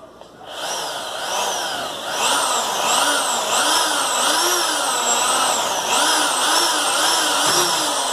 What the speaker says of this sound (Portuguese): Vou furar.